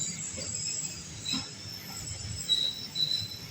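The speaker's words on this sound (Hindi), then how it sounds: "हमारी ट्रेन अब right time Chaklala railway station जो कि रावलपिंडी में है यहाँ पे पहुँच चुकी है" The Rawal Express pulls into Chaklala station in Rawalpindi at night, its wheels giving off high, thin squeals over a low rolling rumble, with short metallic screeches recurring as it slows.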